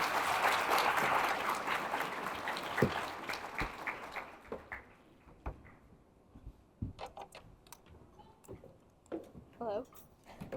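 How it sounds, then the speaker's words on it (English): An audience at a graduation celebration claps loudly for a mentoring program graduate. The applause fades over several seconds and gives way to scattered sounds and a speaking voice. "Please give her a round of applause."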